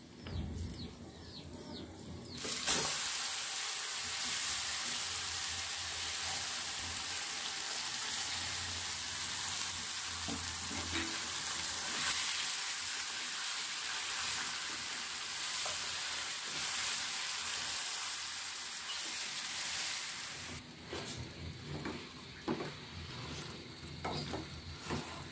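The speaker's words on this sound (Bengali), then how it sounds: "এখন আমি ম্যারিনেট করা মাংসটা দিয়ে দিব।" Marinated beef sizzles and fries in a pan, cooked with cloves, giving a loud steady hiss that runs for a long stretch, with stirring clatter at the start and end.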